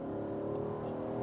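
A 2025 Nissan Patrol's naturally aspirated engine held high in the revs in manual mode, a steady loud drone with rich harmonics throughout, close and sustained.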